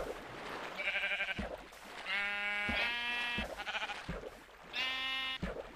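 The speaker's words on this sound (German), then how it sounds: "Ach, und hier gibt's ein Schaf." Sheep in Minecraft bleating three or four times, the calls loud and close with short pauses between them and no one talking over them.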